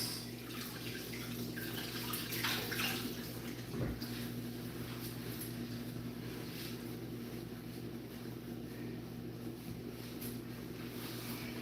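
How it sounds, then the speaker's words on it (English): Water running steadily from a kitchen faucet as hands are rinsed during taco salad prep, a soft continuous hiss with faint splashes, fairly quiet and without speech. "Let me go rinse my hands"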